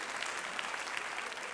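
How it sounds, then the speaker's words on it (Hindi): Steady applause from a studio audience at a Hindi political satire show, dense and continuous through the whole short stretch with no talking. "बहुत बहुत तालियां उनके लिए"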